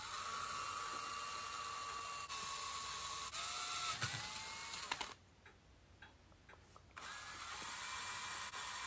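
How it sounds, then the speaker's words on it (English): A handheld electric drill whines steadily and loud while drilling holes on a Norton Nemesis V8 motorcycle, pausing briefly midway before spinning up again for another run. "I'll use my electric handheld drill to drill the other 2 holes"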